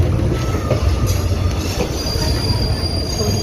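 A DEMU train running between Wankaner and Morbi: loud, continuous rumble of wheels on track with high squealing tones and a steady rushing roar, no voices.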